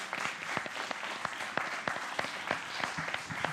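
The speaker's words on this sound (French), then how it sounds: "On les applaudit." At a short-film festival closing ceremony in Paris, a small audience applauds the performers with sparse, distinct claps in a loose, uneven rhythm that sound fairly faint and roomy.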